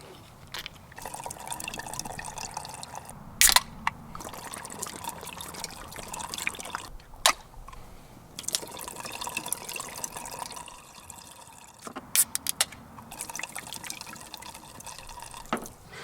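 Red Bull energy drink glugs and trickles from bottles into a car's fuel filler, a steady liquid stream with dripping and a few sharp clinks and knocks of containers, close and fairly quiet.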